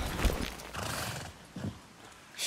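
A horse in Far Cry 6 snorts and whinnies with a few heavy hoof thuds and shifting movement, close and fairly loud, with no talk over it.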